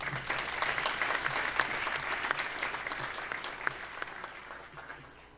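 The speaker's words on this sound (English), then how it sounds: "Let's give them a round of applause, please." An audience at a legislative update luncheon gives sustained, dense applause that holds steady, then tapers off toward the end.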